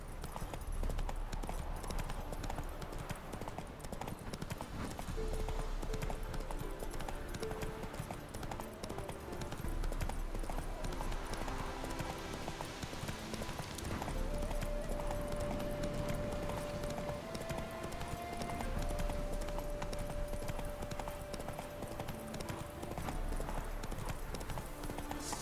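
Geralt's horse Roach galloping in The Witcher 3, a steady, continuous clip-clop of hooves over a dense bed of game ambience and music, close and constant for the whole stretch.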